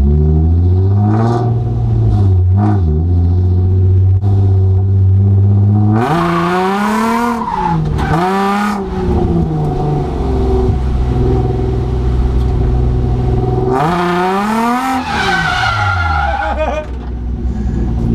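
A car drifts with its engine revving hard through repeated climbs and drops in pitch, while loud, sustained tire squeals come in bursts, close and continuous with no voices.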